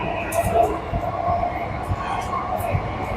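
An underground metro train races at full speed through a dark tunnel, a steady rumbling roar with rhythmic clunks from the rails, heard from inside the carriage with faint talk nearby.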